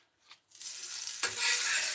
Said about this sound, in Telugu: సో ఇలా ఒక సైడ్ కాల్చుకోవాలి ఫస్ట్ బ్రెడ్ని